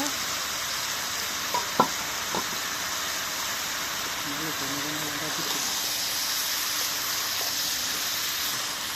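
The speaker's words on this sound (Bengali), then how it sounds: "আবার একটু নাড়া দিয়ে দিব" Food sizzling and frying steadily in a pan, a continuous bright hiss throughout with a few brief knocks of a utensil stirring against the pan.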